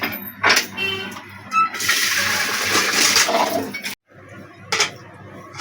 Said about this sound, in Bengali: মাছগুলো আমার পুরো ধোয়া হয়ে গেল